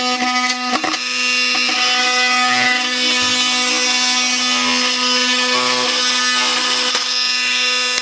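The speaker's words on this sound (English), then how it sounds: "It's no tough task to cut PVC with an oscillating tool." A Milwaukee M18 Fuel oscillating multi tool cuts through PVC, giving a loud, steady high-pitched buzzing drone that runs almost without a break for several seconds after a brief start.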